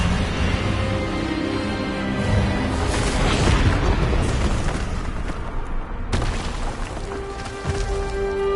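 Hogwarts Legacy Expelliarmus spell firing amid a dense, loud wash of booming magical impacts and rumbling combat noise, with a sharp burst near the end and a sustained hum.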